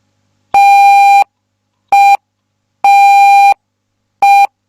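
Repeated Morse code tones in a group lesson: four clean, steady beeps alternating long and short (dash, dot, dash, dot), loud and close with silence between them and no voices.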